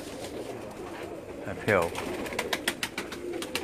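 Pigeons coo on a rooftop loft in Mangla, Mirpur, Azad Kashmir, with a loud nearby coo and wing flutters over ongoing background chatter, while someone speaks briefly.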